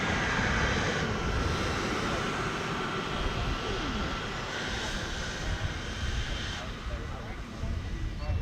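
RC model jet aircraft flying in and landing at a jet event, a loud continuous turbine roar and whine that holds steady throughout, close and dominant.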